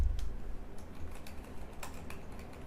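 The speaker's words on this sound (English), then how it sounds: "type it in here." Typing on a computer keyboard at a trading desk, a quick run of light key clicks and taps over a low background hum, with no talking.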